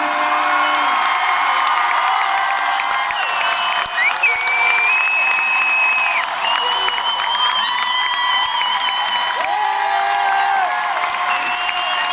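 A large stadium crowd at a concert in Toulouse applauds and cheers continuously, with whistles and shouts rising over steady clapping throughout, loud and dense.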